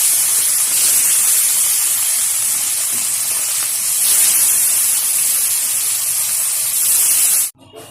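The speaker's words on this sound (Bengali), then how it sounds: "আর এদিকে রুই মাছটা ভালো করে দিয়ে পরিষ্কার করে নুন মাখিয়ে নিয়েছি। এখন আস্তে আস্তে করে ছেড়ে ভেজে নেব ভালোভাবে।" Rohu fish pieces, cleaned and rubbed with salt, sizzle in hot oil in a kadai (wok): a loud, steady, close frying hiss that carries on without a break for about seven seconds, then stops suddenly right at the end.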